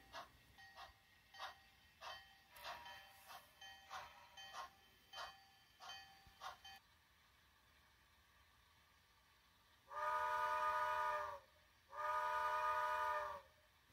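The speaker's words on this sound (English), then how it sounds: "Two blasts of the whistle and we are on our way to Sedarville." Two long, steady steam whistle blasts from a model train on a small short-line layout, loud and close, following a stretch of rhythmic clicking and a quiet pause.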